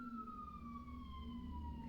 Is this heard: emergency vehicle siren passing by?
yes